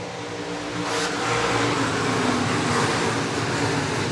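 IMCA stock cars racing on the dirt oval at Clay County Fair Speedway on a Tuesday night, a steady, dense roar of engines that swells after the first second and holds loud and continuous, with no talk over it.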